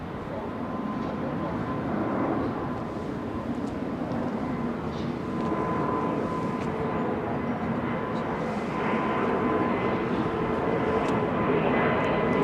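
An aircraft takes off at London Heathrow Airport, a distant, low rumbling roar that builds gradually under broad background noise and stays continuous throughout.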